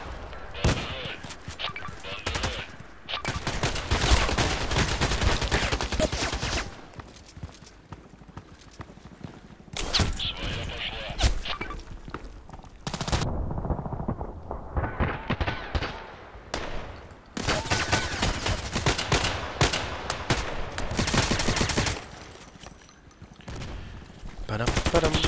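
Silenced gunfire in the online shooter game Contract Wars, bursts of rapid muffled shots in several long clusters separated by quieter gaps, with game noise in between.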